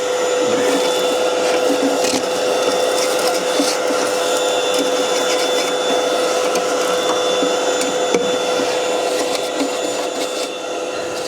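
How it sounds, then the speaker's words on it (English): A shop vac vacuums out the box of a Masterbuilt Gravity Series 1050/560 grill, a loud, steady whining roar with faint scraping and rattling debris throughout. "But I have a shop vac, so it doesn't really matter. Want to get this box all vacuumed out."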